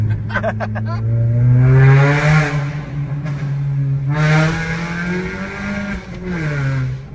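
A sports car engine, said to sound like a Honda Civic, revs hard in first gear inside a tunnel. The rising, droning roar echoes off the walls, surging twice and easing off between pulls, loud and close.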